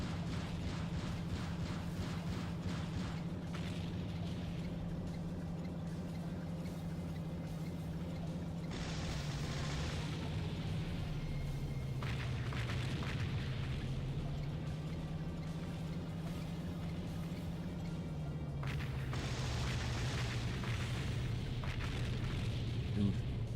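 Bombs burst in the PS2 game Seek and Destroy as a steady, dense rumble of explosions under a low droning engine, with several louder bursts that swell and fade over the stretch.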